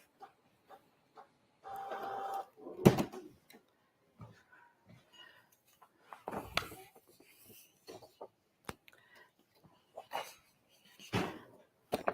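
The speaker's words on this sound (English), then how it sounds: "Send to the printer." An inkjet-style home printer runs while printing an iron-on transfer sheet: intermittent mechanical whirs, clicks and feed bursts come at irregular intervals, fairly quiet, with a short soft voice near the start.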